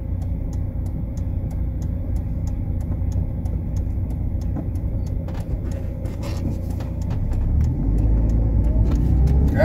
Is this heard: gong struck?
no